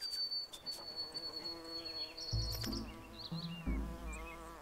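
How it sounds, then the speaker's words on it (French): A wasp buzzes around a young wolf cub outdoors, a thin, close whine that drifts in pitch and comes and goes, with low rumbling handling sounds and faint birds in the background. "Quant à Gamini, il est aux prises avec une guêpe, ce que remarque aussitôt sa mère."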